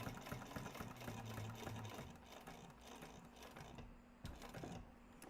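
A sewing machine stitches a crossbody bag with a continuous close motor hum and needle clatter that slows and pauses briefly before resuming near the end.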